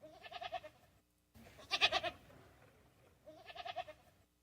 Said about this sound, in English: We made a goat petting game.